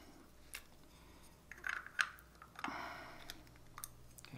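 A Lensbaby optic insert keys into and turns within a Composer Pro lens body, making a few quiet, close plastic clicks and a short scraping twist in an otherwise hushed room.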